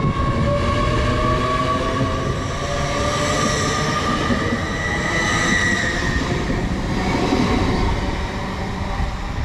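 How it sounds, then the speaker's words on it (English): A Lumo electric train on the London King's Cross to Edinburgh service passes through Stevenage station. A steady, loud rumble of wheels and traction hum continues throughout, with faint squealing tones from the rails, close by and free of talk. "is the 10:45 Lumo service the other way, going from London King's Cross to Edinburgh."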